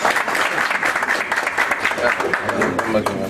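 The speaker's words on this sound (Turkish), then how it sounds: "Özellikle bir alkış." Applause from the audience at a municipal police breakfast award ceremony after gold-coin prizes are handed out, steady crowded clapping held throughout, with faint voices mixed in toward the end.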